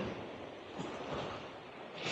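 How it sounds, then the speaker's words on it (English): Sea waves roll onto a sandy beach at Pefkos on Rhodes, a continuous rushing surf with gentle swells and some wind noise, heard alone. "Pevkos has sandy beach, lots of waves at the moment, but usually it's calm."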